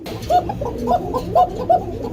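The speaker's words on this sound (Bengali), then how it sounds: "যারা কোকা কবুতর ডাকাটাকে শোনার জন্য কিনতে চান" Pigeons at a busy pigeon market give a series of soft, repeated coos, about five short calls spaced roughly half a second apart over a low background murmur.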